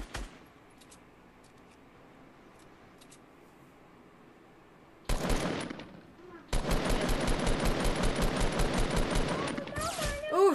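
Gunfire in the Fortnite Battle Royale video game on PS4: a sharp isolated shot around the middle, then a long rapid burst of repeated shots near the end, over quiet game ambience.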